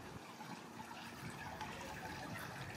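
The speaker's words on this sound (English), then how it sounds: "We have this little waterfall over here." Small decorative waterfall in a landscaped apartment-complex walkway, giving a steady, soft splashing and trickling of falling water that runs continuously at close range with no talking.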